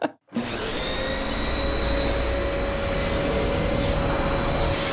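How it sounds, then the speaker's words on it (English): Vacuum cleaner switching on after a brief silence, then a loud, steady whining roar with a high motor tone, sustained close up and alone, used as a travel transition. "our sound designer seems to think we're riding our vacuum cleaners there"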